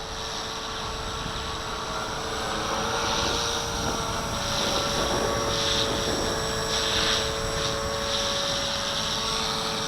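A hovering RC helicopter's rotor gives a steady whirring drone with a constant tone, buffeted by strong wind gusts, at moderate distance.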